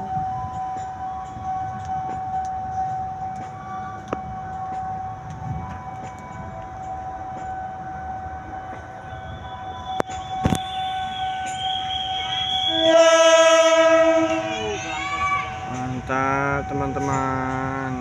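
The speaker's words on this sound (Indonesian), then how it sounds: "suara klaksonnya sangar banget. Suara klaksonnya kayak ini, kayak dorong satu yang di Sumatera." A red-and-blue diesel locomotive, number 8348, passes with a low rumble and faint rail noise. It then sounds a loud, harmonically rich horn blast for a couple of seconds, followed by a second, wavering horn tone.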